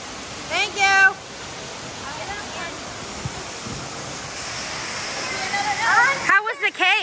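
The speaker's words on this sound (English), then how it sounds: "picture in front of the waterfall." An indoor waterfall at Krohn Conservatory, decorated for Christmas, roars steadily in the background as a continuous wash of rushing water, while nearby voices and a few cheerful exclamations rise over it.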